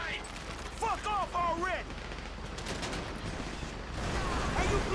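Gunfire in the video game GTA V crackles in scattered bursts at moderate distance, partly masked by a voice speaking over it and a steady background rumble.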